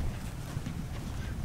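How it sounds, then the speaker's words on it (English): Wind blows at an outdoor RV show on a breezy day after rain, a steady low rumbling buffet against the microphone that fills the whole moment. "It's kind of windy out here."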